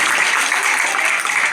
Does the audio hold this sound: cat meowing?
no